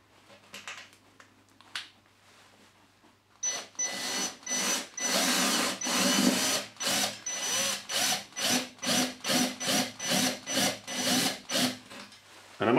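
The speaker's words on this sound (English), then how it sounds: "for the top screw I'm just going to have to use the right angled drill attachment" Power drill fitted with a right-angle attachment drives a screw into an Ezgrip plasterboard fixing, a long whirring run followed by a series of short rhythmic bursts, close and fairly loud.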